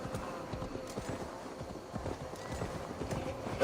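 Horse hooves clip-clop at a steady trot in Assassin's Creed Valhalla, a dense, close rhythm of hoofbeats continuing throughout, with a faint whinny-like tone underneath.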